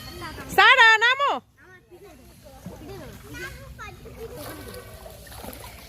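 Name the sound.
children splashing while swimming in a pond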